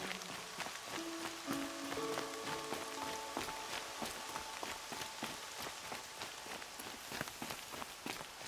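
Rain falls steadily in a Horizon Zero Dawn game scene, a soft even patter with faint taps and footstep-like sounds, while a quiet musical tone sustains briefly near the start.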